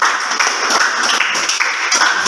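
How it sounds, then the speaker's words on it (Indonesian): Classroom applause for a student group, a steady dense patter of many hands clapping together throughout, fairly loud and close with no talk. "tepuk tangan kelompok 4"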